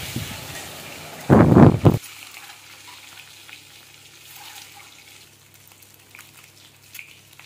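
Eggs dropped into hot oil with a little turmeric give a loud, brief burst of sizzling, which settles into a quieter, steady crackle of frying in the pan.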